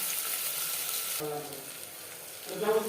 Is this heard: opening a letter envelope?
no